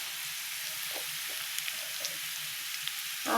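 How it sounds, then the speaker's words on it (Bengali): Elephant foot yam frying in a pan over low heat gives a soft, steady sizzle with a few small crackles, close and alone, rising slightly at the end. "ততক্ষণ আঁচটা কমিয়ে রাখবো, কমিয়ে ভাজবো"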